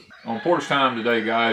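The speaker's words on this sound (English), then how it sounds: "you hear the roosters in the background, the turkeys are gobbling" Roosters crow and cluck in the background of a farm porch scene, faint behind a person talking steadily throughout.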